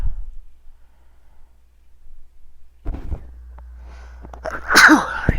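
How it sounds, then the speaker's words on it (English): A single loud, close sneeze bursts out near the end, preceded by a quiet indoor stretch with a low background hum and a few faint shuffling sounds. "I gotta sneeze, hold on."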